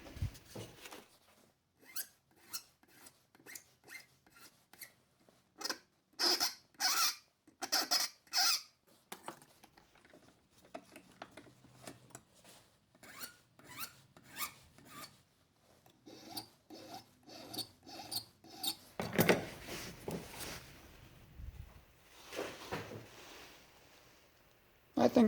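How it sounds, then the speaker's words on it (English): A hand file rasps back and forth across a small part, rounding its top corners, in bursts of close, rhythmic strokes with pauses between, for a custom shock build on a WPL C24 Toyota RC truck. "I'm going to come back with the file and radius these top corners just a little bit."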